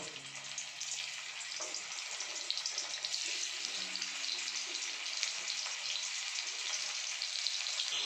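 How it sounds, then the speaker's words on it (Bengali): Cauliflower florets fry in white oil in a wok for a cauliflower rezala, a steady bright sizzle and crackle close by with no talking. "কড়াইয়ে তেল দিয়ে দিয়েছি। এরপর একটা একটা করে ফুলকপিগুলো আমি দিয়ে দেব।"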